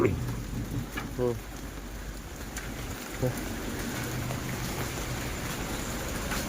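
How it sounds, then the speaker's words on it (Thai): Steady rain pours down outdoors with a constant hiss, broken by a couple of brief chirps or knocks, with no speech. "ฝนตกหนักเกิน"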